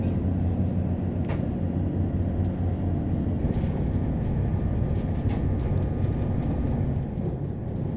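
The Hida limited express train rumbles steadily on the Tokaido Main Line at speed, a continuous low roar with faint rattles and no talking.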